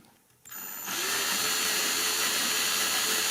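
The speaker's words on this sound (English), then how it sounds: "By far the best way is to use your power drill" Power drill with a 5/64 inch bit boring into a picture frame, starting after a quiet moment with a rising whine that settles into a steady, loud continuous drone, close up.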